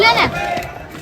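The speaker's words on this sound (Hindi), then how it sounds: "लोग आ रहे हैं, भीड़" Pilgrims crowd the walking path to Neelkanth Mahadev, a brief, close burst of overlapping voices and shouts.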